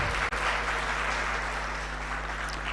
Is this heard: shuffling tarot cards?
no